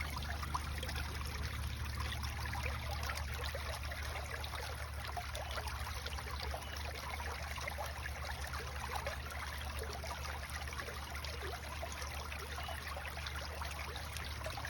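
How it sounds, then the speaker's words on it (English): A spring-fed stream rushes over small pebbles in rainy weather, giving a faint, continuous burbling trickle with no talking. "Recognize how the water rushes over the little pebbles at the bottom of this spring, and notice how it makes a beautiful noise"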